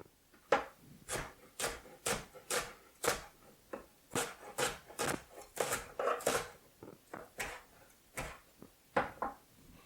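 Shallots being chopped finely with a knife on a board, a quick series of crisp, evenly spaced taps up close, nearly twenty strokes with short pauses between them.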